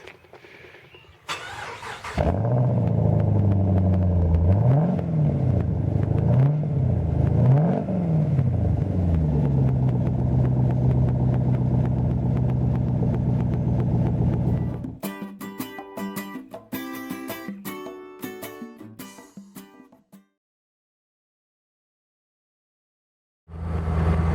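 A Camaro engine cranks and catches, then runs with a deep, loud rumble and several revs before settling; later the sound changes to a choppy idle, then cuts off.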